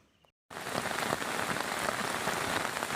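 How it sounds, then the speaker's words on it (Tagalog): Heavy rain pours down steadily on surfaces in a corn field, a dense, loud hiss of drops that starts abruptly after a brief quiet moment and continues unbroken, with no talking. "ang lakas ng ulan"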